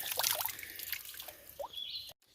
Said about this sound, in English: There's like a box with water that's coming out of the mountain.